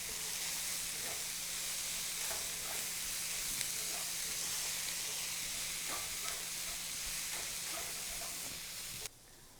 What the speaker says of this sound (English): The vegetables and seasonings have been cooking for about 5 minutes now.